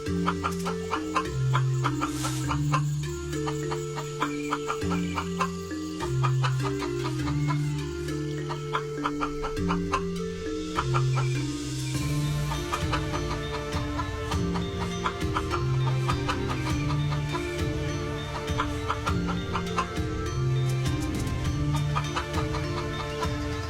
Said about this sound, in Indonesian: air kencing Ajisaka terminum oleh seekor ayam betina yang sedang kehausan